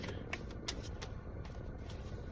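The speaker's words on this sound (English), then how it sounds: "I don't know why I'm shuffling this way, but I'm going with it" Tarot cards being shuffled by hand, a steady papery riffling and patter that runs close and continuous throughout with a few sharper flicks.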